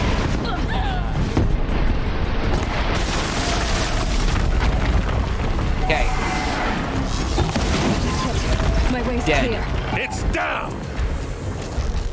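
Explosions and booming blasts in Horizon Zero Dawn while a machine is being destroyed, loud and continuous across the whole stretch, with crashing debris and bursts under occasional game voices.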